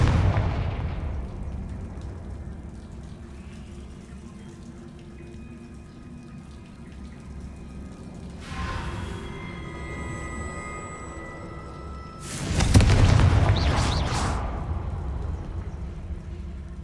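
Blasting Confringo spell explosions in the Hogwarts Legacy video game, heavy booming bursts over a low rumbling backdrop, with a sharp bright blast near the start, a softer one midway and a loud crackling eruption toward the end.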